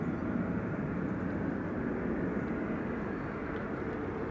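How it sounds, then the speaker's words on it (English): A Transavia Airbus A321neo airliner taxis at Schiphol airport, a steady low jet engine roar and rumble that holds evenly throughout at moderate distance, with no voices. "Another Transavia A321neo to Marsa Alam is on its way to runway 18 left"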